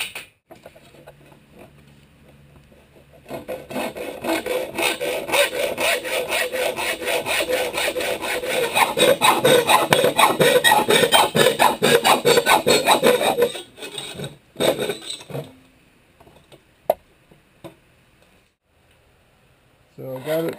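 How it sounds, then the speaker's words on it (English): Handsaw cutting a small wooden tab off a teardrop trailer build, a brief scratch and then about ten seconds of loud rapid back-and-forth rasping strokes, ending in a few scattered knocks and quiet handling. "I'll mark that and cut off that little tab"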